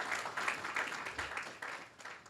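Applause from an audience at a town hall meeting, a steady wash of many hands clapping at moderate loudness with no break across the whole stretch.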